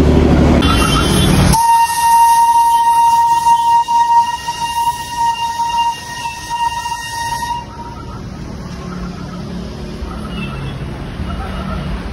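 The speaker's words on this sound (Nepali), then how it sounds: "Darjeeling toy train" The Darjeeling toy train sounds a long, loud whistle over several seconds near traffic, then its rumble fades into a lower, steady background.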